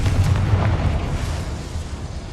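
The Confringo blasting spell going off in the Hogwarts Legacy video game, a loud, booming explosion with a heavy low rumble that fades over about two seconds, with no voices.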